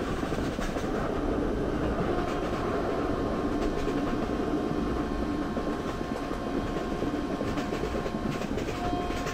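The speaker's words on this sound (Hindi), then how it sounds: "और दोस्तों, हम लोग मीटर गेज की ट्रेन को ओवरटेक करने वाले हैं बहुत जल्द" An Indian Railways meter gauge train with brown coaches runs alongside, giving a continuous loud rumble with rhythmic rail clatter that stays steady throughout, with no talking.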